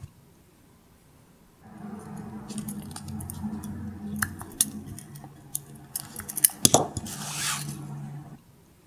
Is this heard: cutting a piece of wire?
yes